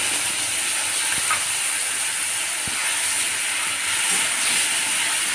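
Chopped tomato and spice paste hitting fried potatoes in a pan for potol alu kosa, giving a loud, steady broadband hiss of sizzling throughout, broken by a couple of faint clicks.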